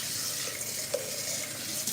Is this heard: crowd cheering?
no